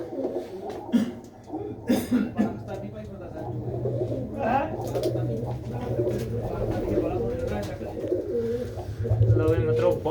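Pigeons coo in a loft, repeated low throaty calls close by, with someone talking intermittently over them and a brief cough.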